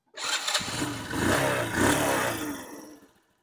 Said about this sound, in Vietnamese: Máy là bao im rồi, để em nổ máy ha.